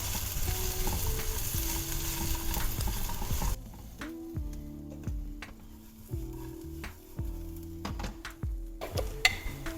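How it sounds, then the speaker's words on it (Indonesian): Tempe being stirred into seasoning in a frying pan over lowered heat, with a dense, loud sizzle for the first few seconds that thins to quieter crackles and scrapes beneath background music. "Sekiranya warnanya sudah berubah, kita masukkan tempenya. Kita aduk dulu sampai rata."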